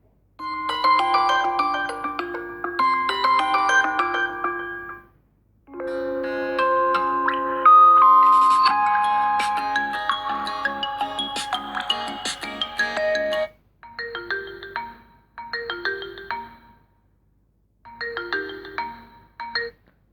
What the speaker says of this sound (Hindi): तो यहाँ से कुछ रिंगटोन्स को हम चला लेते हैं और देखते हैं कैसी क्वालिटी है।